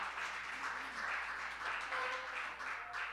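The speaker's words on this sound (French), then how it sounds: "On peut applaudir l'équipe de louange encore" A church congregation applauds the worship team at a Sunday gathering in Gatineau, a steady, fairly distant wash of clapping that fills the whole stretch without a break.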